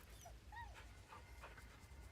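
A dog in Baldur's Gate 3 gives soft, faint whimpers and happy little yips while being petted, brief rising whines over a quiet low game hum.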